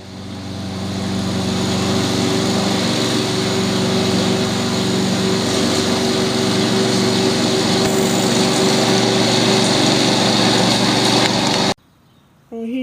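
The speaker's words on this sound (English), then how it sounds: "he brought over his lawnmower and cut a little bit" A lawn mower engine runs loud and close with a steady droning hum for about twelve seconds before cutting off abruptly.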